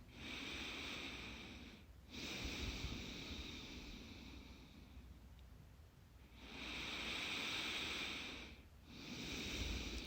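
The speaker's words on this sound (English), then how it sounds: "So just taking a couple of deep breaths." Slow deep breathing at the start of a yoga class: a few long, soft inhales and exhales close to the microphone, each lasting several seconds with short gaps between.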